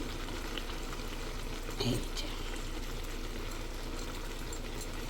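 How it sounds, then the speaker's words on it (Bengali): Homemade ghee hits a hot pan and sizzles with a steady, even frying hiss throughout, plus a brief clink of a utensil partway through. "এখন আমি এর মধ্যে আমি ঘি দিয়ে দিব একদম গাওয়া ঘি দিবেন"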